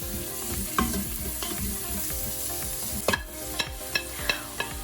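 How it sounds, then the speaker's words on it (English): Onions and garlic sauté in an Instant Pot (Nutricook), with a steady sizzle running throughout. A spoon scrapes and stirs in sharp clicks, several of them close together near the end. "we are going to saute the onions and garlics"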